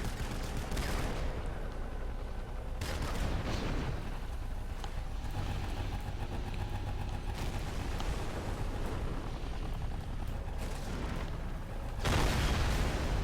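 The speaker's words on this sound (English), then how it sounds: "I see a mobile layer actually bombarding the fire base, but it's now getting bombarded itself by the Crusader tanks" Crusader tanks bombarding a fire base in the real-time strategy game Rise of the Reds: dense, continuous rumbling gunfire and explosions, with heavier booming impacts near the start, middle and end.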